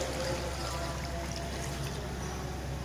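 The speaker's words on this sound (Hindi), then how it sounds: "जो सीरी की यखनी है वो हम इसके अंदर ऐड करेंगे।" Goat head broth is poured into a cooking pot, a continuous close splashing, gushing liquid sound that cuts off abruptly at the end.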